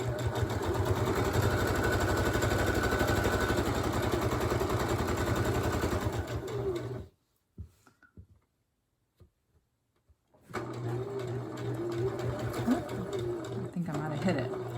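A sewing machine stitches a seam on a three-layer fabric face mask, a steady close mechanical whir that stops for a few seconds of near silence, then starts again.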